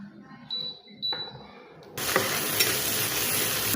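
Meat for Bangladeshi mezbani cooks in a pot on the stove, starting with a couple of faint clinks before a sudden, steady hissing sizzle takes over close by.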